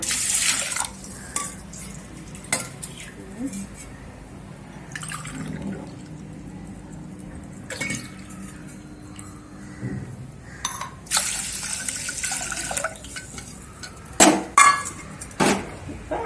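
Water splashes into a pot in short bursts between clinks and knocks of metal cookware, fairly quiet and close, as measured water is poured in while cooking ulundhu sadham, a Tirunelveli rice and lentil dish.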